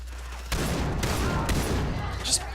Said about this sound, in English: Just blind fire.